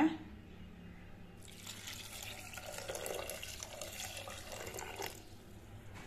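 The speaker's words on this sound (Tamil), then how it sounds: "இது முழுகிற அளவு தண்ணி ஊற்றிக்கலாங்க." Water pours steadily into a pot while making sambar, a close splashing stream that starts after a brief pause and runs for several seconds before easing off.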